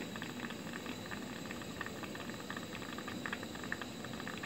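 Water boils steadily inside a homemade distiller built from a recycled thermos, a dense continuous bubbling and faint hiss, close and even, with no talking.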